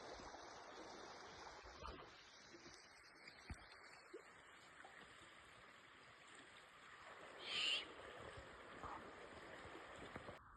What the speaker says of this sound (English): we were greeted with the owl this morning